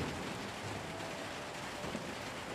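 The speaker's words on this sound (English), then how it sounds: "I do like the sound of rain, though." Steady rain falling in the video game Little Nightmares 2, a dense continuous hiss with a low rumble underneath, even and unbroken throughout with no voices.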